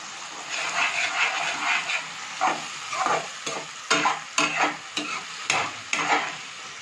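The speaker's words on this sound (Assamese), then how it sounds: "পেষ্টখিনি মই তেলত ধুনীয়াকৈ ভাজি দিলোঁ" Masala paste fries in hot oil for a mutton curry, loud close sizzling broken by repeated rhythmic scrapes and stirring strokes of a spatula in the pan.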